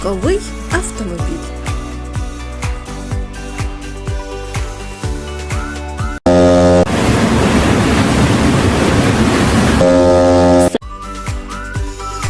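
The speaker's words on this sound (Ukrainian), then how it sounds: "корабель." A ship's broad rushing engine and water noise, with a horn-like tone, sounding for a few seconds between stretches of lively music.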